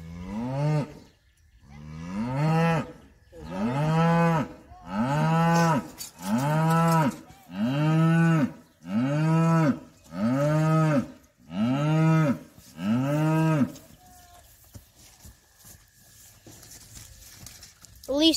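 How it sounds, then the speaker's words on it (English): A cow moos repeatedly in long, loud, regular calls, about ten in a row, each separated by a brief pause, then quieter farmyard ambience. "Release the cows."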